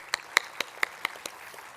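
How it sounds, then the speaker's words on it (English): About seven sparse, separate hand claps ring out in a slow uneven rhythm at an urban mobility conference award ceremony, faint and isolated against a quiet room. "Once again, a big round of applause to all the winners."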